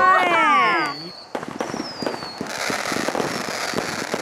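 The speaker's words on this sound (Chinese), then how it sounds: "有烟花哎！" Fireworks on a beach at night: whistling rockets rise and burst into a rapid run of crackling pops, loud and close, with an excited voice at the start.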